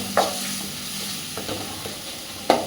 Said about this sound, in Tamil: இந்த மாதிரி நல்லா வதக்கிக்கோணும்